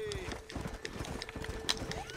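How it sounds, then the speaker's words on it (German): Horse hooves clip-clop at a steady trot in the video game Red Dead Redemption. The regular rhythm repeats through the whole stretch amid background game sound. "Das Pferd, das geht mir so auf die Nerven manchmal."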